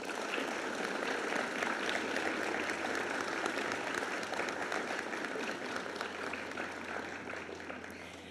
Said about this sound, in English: give a huge round of applause to our career elective directors